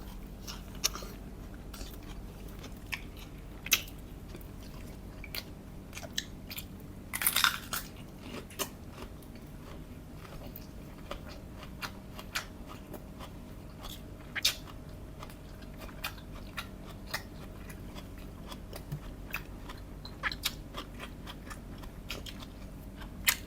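Giant crunchy pork meatballs are bitten and chewed close up, with scattered sharp crunches and crackles over a low steady background, a few louder bites standing out.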